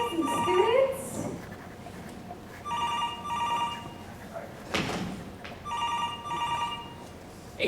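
A telephone-style bell rings in two or three bursts during a stage play of Get Smart, the shoe phone trilling at moderate volume amid stage movement and voices.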